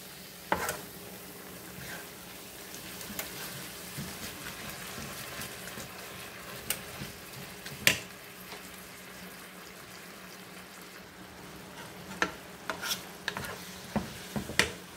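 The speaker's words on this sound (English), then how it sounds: "We're gonna allow this to boil." Coconut milk in a pot comes up to a boil for a banana heart salad, giving a quiet, steady bubbling simmer with scattered faint pops and utensil clicks, close by and without talk.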